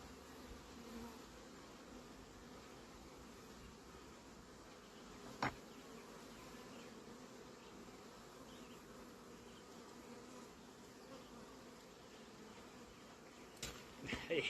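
A steady, dense buzzing of many honeybees at an opened hive fills the scene, continuous and close, with a couple of brief knocks standing out.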